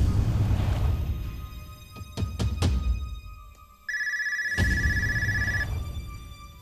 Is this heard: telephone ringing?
yes